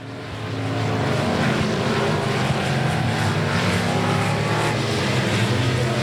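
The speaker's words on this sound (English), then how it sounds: "Lovell goes up to the higher line of the racing surface, chops the corner down, gets one fast," Race cars circle a raceway track during a race, producing a loud, sustained engine roar that swells in at the start and stays steady throughout.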